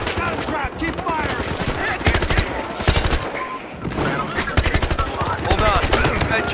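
Rapid automatic gunfire crackles through a Battlefield Hardline match in dense, loud bursts, broken by short pauses, while players' voices talk over the shooting.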